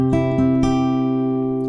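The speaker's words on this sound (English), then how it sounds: "And a typical finger picking pattern will just sound like this." Acoustic guitar in a typical finger-picking pattern, a bass note with pinched upper strings and plucked notes on the 2nd to 4th strings, several quick plucks over sustained ringing chords, close and clear with no voice.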